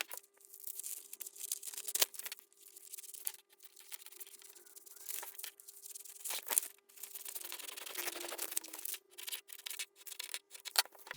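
Scissors cut a paper sewing pattern for balloon trousers in a run of crisp snips and rustling paper, close up, with short pauses between cuts.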